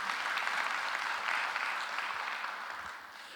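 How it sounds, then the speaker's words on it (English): A conference audience at a cybersecurity event gives a round of applause for its partners, a broad wash of clapping from a large hall that gradually fades toward the end. "Once again, a round of applause for our partners,"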